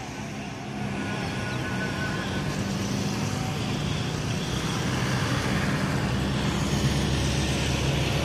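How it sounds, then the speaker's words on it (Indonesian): Busy bus terminal at Muara Bungo on an overcast, windy day, with a continuous low rumble of idling and passing bus engines and traffic, a steady broadband roar that rises slightly after the first second and stays dense throughout. "Rame lagi lur ya terminal Muara Bunga lur"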